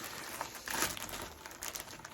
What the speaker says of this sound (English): No, there's going to be rustling. I will edit this out.